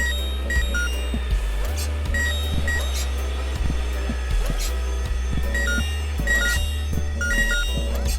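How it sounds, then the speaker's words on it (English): A fire alarm sounds in the video game Horace as steady repeated beeps over a droning, pulsing musical background, with no talking. "The ear-splitting sound was the fire alarm."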